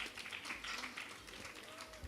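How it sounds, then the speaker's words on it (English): An audience applauds with a dense spread of clapping hands that continues steadily, with a voice faintly audible in the background. "So, Kirk, please give a round of applause to Kirk."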